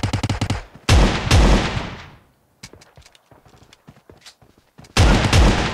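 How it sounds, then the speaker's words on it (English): Shotgun blasts in PUBG Mobile, a loud burst of rapid shots, then a heavy boom followed by another, a quieter spell of scattered impacts, and a final loud blast near the end. "Shotgun kill."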